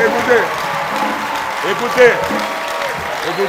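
A church congregation claps and cheers loudly together, a dense, steady wash of applause with raised voices rising over it throughout.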